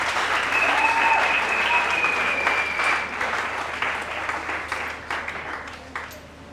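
A church congregation breaks into loud, sustained applause nearby, a dense wash of clapping that slowly thins and fades over several seconds.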